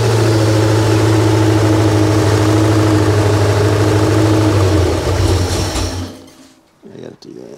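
Ford SBF 302 small-block V8 engine on its first start, running loud and close with a rough steady drone and slight revving before cutting off abruptly, followed by brief voices.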